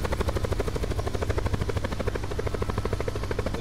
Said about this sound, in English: If you're getting shot at in a helicopter,